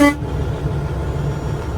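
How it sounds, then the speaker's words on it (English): A brief blast of a truck's city horn and air horn at the very start, heard inside the cab, then a steady low engine rumble. "you want to check your city horn and the air horn right here"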